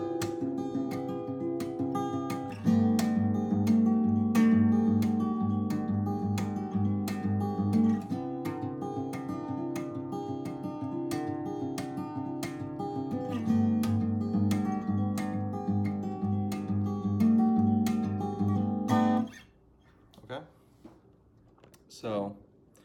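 Guitar playing the verse of a song, loud and steady with strummed chords and regular sharp accents over a sustained low part, ending in a stop and faint trailing notes.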